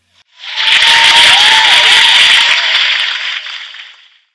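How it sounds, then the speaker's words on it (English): A group of people applauding indoors, a dense, even burst of clapping that swells quickly, holds for a few seconds and then tapers off, loud and close, with no speech. "Much better clapping."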